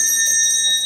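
Continuous electric school bell ringing loudly and steadily with a bright metallic tone, filling the whole moment without any voices.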